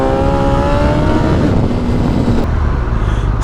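Motorcycle engine hauling hard in first gear at around 45 mph during a power wheelie, a loud, steady near roar with rising harmonics that drops off midway into rough rumble and wind.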